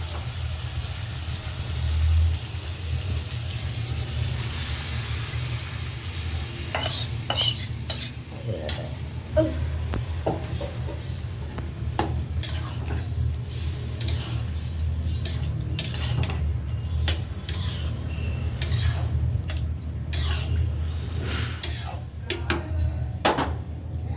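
Bottle gourd curry with spices cooks in a pan, giving a low steady sizzle broken by frequent clattering stirs and utensil knocks, with some voice in the background.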